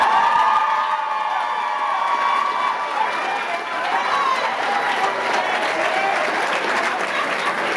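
Loud, sustained applause fills the hall at the 25th annual Phillips-Perry Black Excellence Awards ceremony, with whoops and cheers riding over the dense clapping throughout.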